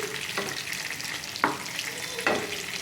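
Whole stuffed brinjals fry in a pan under a soft, steady sizzle, and three brief spatula scrapes mark the eggplants being turned over, with no talking.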